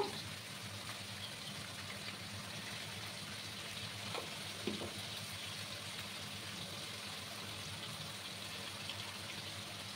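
Potatoes, onion and green chilli with turmeric frying in a pan, a steady hiss of sizzling oil with a couple of faint stirring scrapes, close and quiet, no talking.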